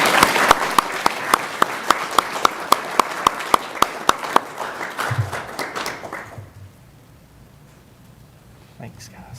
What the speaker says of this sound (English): I guess we'll give them a round of applause.